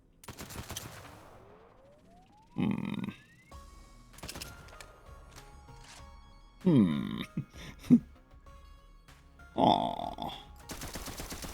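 A Sandhawk cryo weapon fires in a video game, loud bursts of shots and effects coming in several separate volleys over the span, with a sweeping tone and other game sounds between them.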